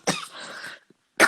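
Someone coughs in a sudden fit, a sharp burst followed by a rough, rasping stretch of coughing and a final harsh cough, close and fairly loud in a dry indoor room.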